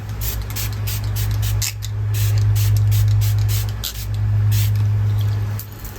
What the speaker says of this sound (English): To prime, I am just going to use a primer spray